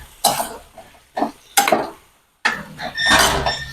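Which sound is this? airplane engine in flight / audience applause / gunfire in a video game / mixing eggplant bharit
mixing eggplant bharit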